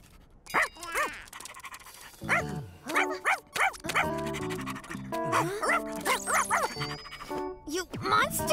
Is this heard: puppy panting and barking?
yes